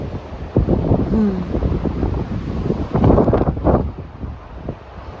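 Strong, gusting wind buffets a microphone on an exposed stretch of the Pacific Crest Trail, a steady roar swelling into louder blasts without pause, with no talking.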